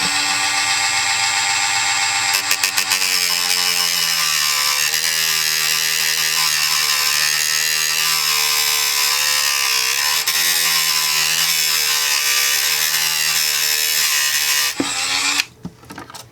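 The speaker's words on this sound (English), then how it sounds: "we just put this on here on the slowest speed and just start cutting" A rotary tool on its lowest speed cuts a notch into model railroad track, a steady high-pitched whine and grind that runs loud and unbroken for about fifteen seconds before cutting out.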